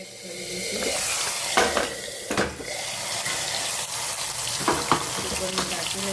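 Chopped tomatoes added to hot oil tempered with mustard seeds, cumin and asafoetida in a pressure cooker, a loud burst of sizzling that surges and settles with stirring clatter in between, no voices.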